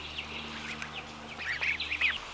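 Young ducklings and goslings quack and peep in a busy overlapping chorus, fairly close, with a steady low hum underneath and calls growing louder toward the end.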